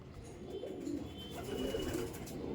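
Pigeons in a tournament racing loft coo softly and repeatedly nearby, their low murmuring overlapping in a steady rhythm without speech.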